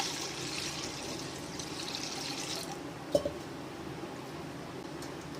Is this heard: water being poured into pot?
yes